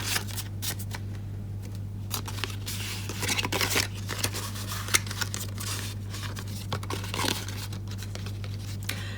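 Paper being carefully folded into a small handbag, a run of soft crinkles, creases and rustles close by, with brief sharper snaps of paper between quieter handling, over a steady low hum and no talk.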